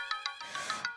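A phone ringtone plays a quick pattern of bright electronic tones, about six short pulses in one second, close and clear with no talk.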